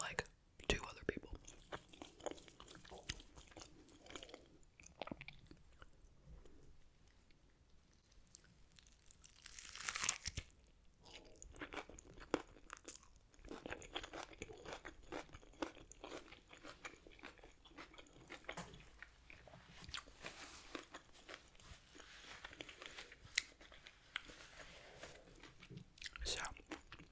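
Close, crunchy chewing and biting of Five Guys fries, wet mouth sounds and soft crinkling of a paper bag, with whispered talk weaving through the eating.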